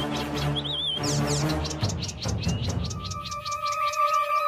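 Cartoon birds chirp and tweet over a crop field, with quick bright calls repeating across a busy, layered animated soundtrack that holds music and effects.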